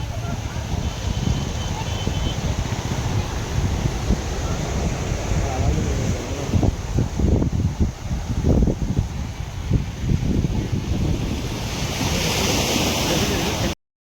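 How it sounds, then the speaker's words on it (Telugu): Surf at Dhanushkodi beach rolls on in a steady, loud roar mixed with wind noise on the microphone, while faint voices rise briefly in the middle before the wash continues alone. "సముద్రం ఎంత బ్యూటిఫుల్గా కనిపిస్తుంది తెలుసా"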